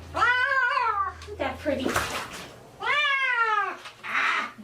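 A cat meows loudly and repeatedly with drawn-out, wavering cries during its first bath, two long yowls separated by splashing and handling noise, while a person speaks softly nearby.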